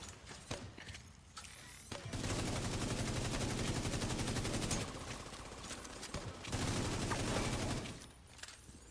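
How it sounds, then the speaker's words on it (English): Sustained automatic gunfire from The Division 2 roars in two long, loud, close bursts separated by a brief lull, with a few scattered shots at the edges. "Shooting at me. Stop shooting at me."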